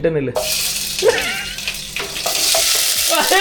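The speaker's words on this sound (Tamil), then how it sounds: "இப்ப இதை எடுத்து எண்ணெயில போட்டா தரபுறம் தெரிக்கிறதா? தெரிக்குது" Paneer pieces dropped into hot oil for a green pea paneer gravy, giving a close, steady frying crackle with bursts of spattering, while a voice speaks briefly over it.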